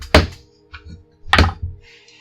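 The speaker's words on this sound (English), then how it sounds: "It sounds like the battle drums, but it's just him upstairs, banging on the stove." Someone upstairs banging on a stove gives two heavy, hollow thuds about a second apart, each trailed by a softer knock, heard through the ceiling at a moderate level with no talk.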